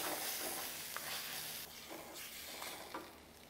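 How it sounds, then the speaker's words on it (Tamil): Ground coconut masala being stirred in a hot pan for Chettinad crab masala, with a continuous sizzle and frying hiss and occasional scraping strokes of the spoon. "நல்லா mix பண்ணிங்க"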